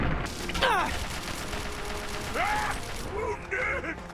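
Weapon switch to the Chinese assault rifle in Fallout, a few short mechanical clicks and creaking rattles spread across a quiet stretch of game ambience, fairly faint.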